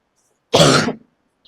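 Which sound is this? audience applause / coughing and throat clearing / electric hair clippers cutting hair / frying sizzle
coughing and throat clearing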